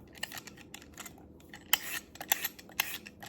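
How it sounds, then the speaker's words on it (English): A peeler scrapes the skin off a sweet potato in quick, close strokes, faint at first and then firmer and more rapid, with no talking. "So I'm gonna peel my sweet potato here,"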